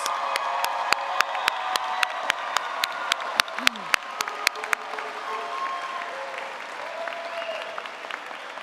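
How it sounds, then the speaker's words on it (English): Graduation ceremony audience applauding graduates' families, a broad sustained crowd clapping with sharp loud claps punctuating the first half, then fading into a softer wash of applause with some cheering. "give them a round of applause"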